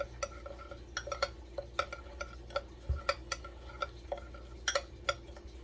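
Metal spoon clinks and scrapes against a bowl while seasonings for a crispy-skin roast pork pernil are mixed, a steady run of sharp, close taps with no talking.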